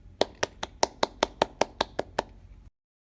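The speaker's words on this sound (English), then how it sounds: "Shall we clap for Turtle?" A small group claps together for a storybook turtle at the end of a read-aloud, about a dozen sharp, evenly spaced claps ringing out close and clear before stopping abruptly into silence.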